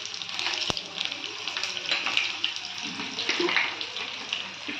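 Mustard seeds, green chillies and seasoning crackling and sizzling in hot oil for an amla green-chilli pickle, a steady bright hiss with a few small pops, close and unbroken.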